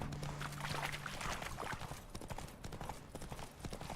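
A horse gallops in rapid, rhythmic hoofbeats during a horse race in the video game Witcher 3, the clip-clop close and steady throughout.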